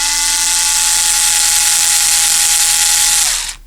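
Small electric driver turning a screw into the plastic of a Tamiya TT01 E RC drift chassis, a steady close high whine with a constant motor tone, running for about three seconds before stopping.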